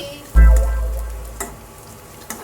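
Cloves and cardamom hit a hot pan for a paneer butter masala, setting off a sudden loud sizzle that fades into a steady crackling fry with a few light stirring clicks.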